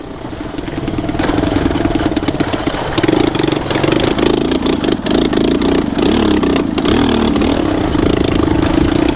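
A motorcycle engine on a rough mountain trail near Dhorpatan, loud and steady as it climbs and revs in bursts, with clattering from the ride and no talk.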